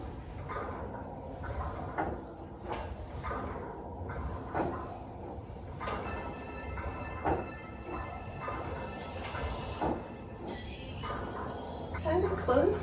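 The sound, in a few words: Pilates reformer carriage closing against springs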